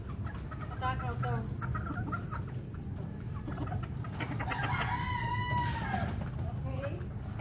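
Roosters cluck and murmur steadily at feeding time, with a few louder calls and squawks rising over a constant low background rumble.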